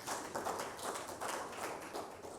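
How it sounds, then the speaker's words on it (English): Audience applause at an awareness-month program meeting, a steady wash of many hands clapping throughout, moderately loud and unbroken, with no voices over it. "Can we clap for them, please?"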